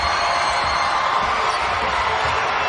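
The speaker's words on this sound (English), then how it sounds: "And the crowd's starting to get back into it." Spectators in a basketball arena cheer during a Texas Tech versus Texas Big 12 game, a loud, continuous roar of crowd noise with whoops that holds steady throughout.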